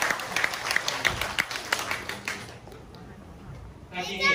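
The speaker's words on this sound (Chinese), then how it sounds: "让我们给他们热烈的掌声。" Applause for a children's string orchestra at a school concert, a burst of clapping that thins out and fades after a couple of seconds, followed by quiet and then brief child chatter.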